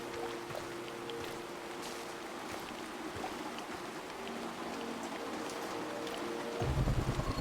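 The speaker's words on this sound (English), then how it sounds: "It's raining." Steady rainfall in the video game Chernobylite, a continuous even patter of drops on surfaces with a deeper rumble swelling in near the end, heard alone without talk.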